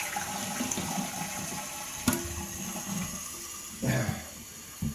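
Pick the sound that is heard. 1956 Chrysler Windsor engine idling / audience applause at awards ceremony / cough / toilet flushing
toilet flushing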